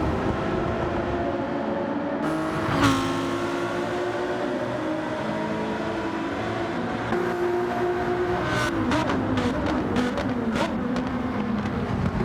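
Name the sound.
race cars battling in sim racing video game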